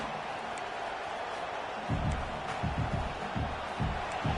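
A stadium crowd at a college football game gives off a low, steady rumble, then swells into louder rolling cheers and roars. The noise surges in several waves from a distance.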